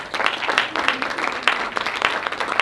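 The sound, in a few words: audience applause at awards ceremony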